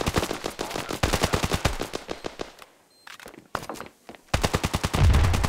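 Rapid bursts of automatic gunfire in the mobile shooter game Standoff 2, loud sharp shots in quick rhythmic strings with a brief quieter gap and a few single shots before another long burst.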